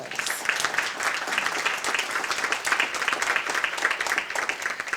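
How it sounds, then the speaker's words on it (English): A crowd at a business recognition breakfast claps steadily and vigorously for several seconds, a dense, even wash of applause with no voices. "give them another round of applause."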